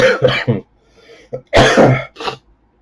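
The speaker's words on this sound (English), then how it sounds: "sorry, so much coughing." A run of close, rough coughs and throat clearing in a few uneven bursts, loud and near, with brief gaps between them.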